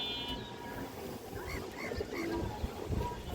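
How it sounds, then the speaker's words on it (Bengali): A male pigeon with red gear and a clear, unbroken tail coos nearby in a few soft, low bursts, with faint chirps and shuffling in the background. "এই যে দেখেন লাল গিয়ারের কবুতরটা"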